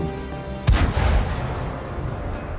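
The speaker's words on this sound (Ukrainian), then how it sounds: "Артилерія кидає, артилерія кидає по цьому гнізду" A single heavy artillery shot in a tank video game, one sharp close boom with a long rumbling decay over steady background noise.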